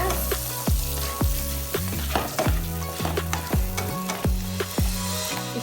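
Chicken sautéing with butter, garlic and onion, a constant sizzle punctuated by about a dozen sharp spoon-on-pan stirring knocks in an uneven rhythm, close up and without talk.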